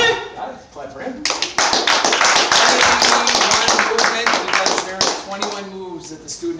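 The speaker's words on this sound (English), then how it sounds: "Clap for him." An audience claps after a taekwondo kicking demonstration, starting after a brief pause and swelling into loud, sharp, fairly close clapping that fades toward the end, with a voice speaking briefly.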